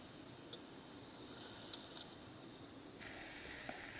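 Steak searing in a small pan at a rainy campsite, fat rendering with a faint, steady hiss and a few soft pops, quiet and close, no voices.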